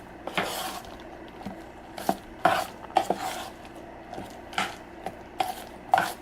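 Drumstick leaf and urad dal vadai batter is mixed by hand in a bowl, giving soft repeated wet slaps and knocks against the vessel at an irregular, close rhythm.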